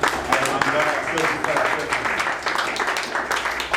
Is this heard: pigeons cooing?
no